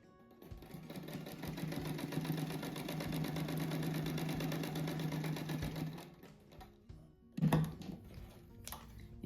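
A sewing machine stitches fabric for a patchwork rug, its motor running in a steady, fast mechanical whir for several seconds, then stopping, followed by a few soft clunks, fairly quiet and close.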